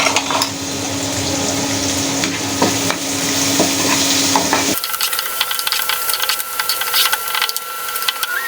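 A utensil stirs food frying in a nonstick pan, giving close scraping strokes over a continuous sizzle; the clatter becomes sharper and more prominent partway through.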